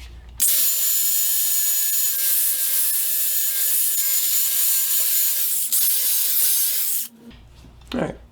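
Handle pieces clamped in a vise are shaped and rounded with a power tool, giving a loud, continuous high grinding whir for several seconds with one brief dip, then the tool winds down.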